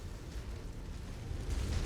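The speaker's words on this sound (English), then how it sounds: "I see an explosion over there." A deep, steady rumbling explosion from MechWarrior 5: Mercenaries mech combat rolls on at a moderate distance and swells slightly louder toward the end, with no voices over it.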